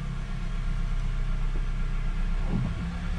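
A Honda CR-V engine idles with a steady low hum while the transmission is shifted through its gears, a faint clunk breaking in near the end.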